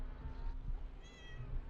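A pet cat named Elfie gives a short, faint meow against a low background murmur, heard close and alone without anyone talking.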